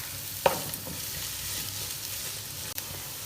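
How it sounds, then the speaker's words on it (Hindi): Chopped onions sizzle in hot oil for chicken masala kabab, a steady close frying hiss broken by a couple of sharp stirring scrapes. "और इसको करेंगे हम ऑयल के अंदर सौते।"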